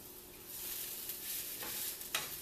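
Potato crust patties frying in a pan give off a steady, quiet sizzle, broken by a couple of brief scraping clicks as they are flipped.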